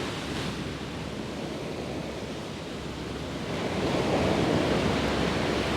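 Ocean waves surging in a continuous broad roar with some wind, swelling louder toward the end, with no voices.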